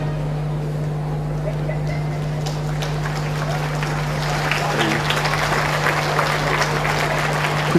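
A crowd at Kensington Oval during the Barbados 50th anniversary independence parade, applauding as a broad steady rush of clapping that builds partway through, heard at a distance over a constant low hum.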